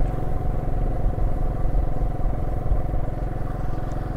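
A small motorcycle engine runs steadily at a low, rough idle-like putter, close and continuous for a few seconds on a foggy farm morning, with no voices.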